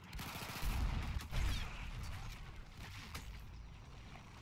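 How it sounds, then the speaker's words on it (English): Gunfire in the game Battlefield 1, including shotgun blasts, comes as a dense run of loud, close shots and booms through the first half, then eases into a steadier crackle of distant battle noise. "Oh, I got shotgunned."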